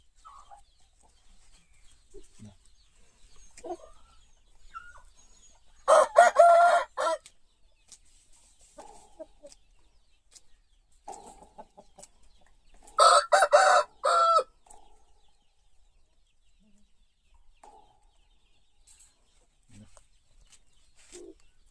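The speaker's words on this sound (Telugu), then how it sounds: "కోడి కూడా చాలా ఇష్టంగా తింటాయి. చూడండి ఎలా తింటున్నాయో." Roosters eating betel leaves on a farm, quiet scattered clucks and pecking between two loud, close crowing calls, each lasting over a second, separated by several seconds of near silence.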